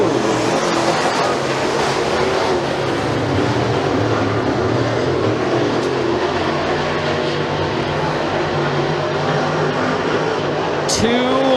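Race cars in a heat at McKean County Raceway roar steadily around the track, a loud continuous engine drone with a brief sharp rise near the end as one passes close.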